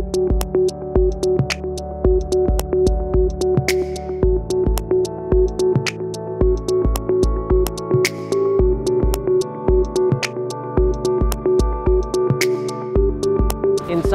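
Electronic music piece composed from the colors of Dubai: a steady looping beat with punchy low kicks, bright clicky percussion and sustained tonal drones, loud and alone without speech.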